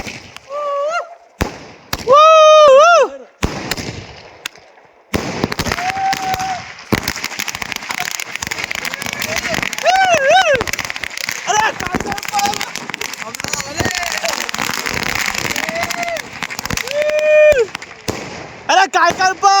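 Firecrackers burst in a dense, crackling barrage during an outdoor birthday celebration, with sharp pops and continuous crackle while voices shout and talk over it.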